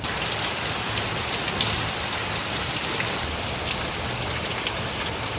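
Steady rain pours down in a dense, even hiss that never lets up, loud and close, like a downpour on a surface nearby.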